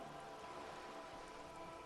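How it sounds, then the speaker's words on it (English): Steady rain falls in the video game Disco Elysium, a dense, even hiss of drops with no pauses and no voices. "The rain is freezing."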